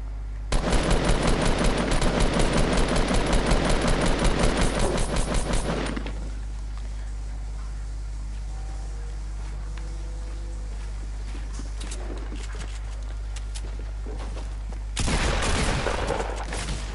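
Loud, rapid automatic gunfire from an online shooter game rattles continuously for about six seconds, falls quiet, then bursts again near the end, with no talk over the shots.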